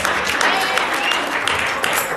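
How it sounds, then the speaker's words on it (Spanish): Church congregation applauding at a sermon, a broad sustained wash of many hands clapping, fairly loud and even throughout. "Dámosle un fuerte aplauso de gracia."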